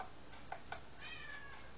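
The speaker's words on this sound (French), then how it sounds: "Si vous entendez des miaulements, c'est mon chat." Two short, faint meows from a cat close together, quiet against a low background hiss, with a fainter drawn-out call trailing after.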